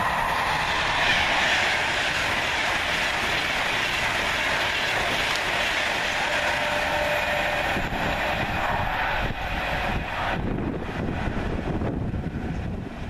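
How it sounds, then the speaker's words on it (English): A Class 390 electric passenger train runs from Glasgow Central to London Euston and speeds through Rugeley Trent Valley station. It makes a loud, sustained rushing roar with wheel clatter and wind buffeting on the microphone, easing slightly toward the end. "390-103 flies through, working 1M08 from Glasgow Central to London Euston"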